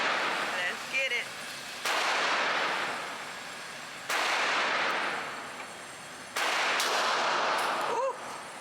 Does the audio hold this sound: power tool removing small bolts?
no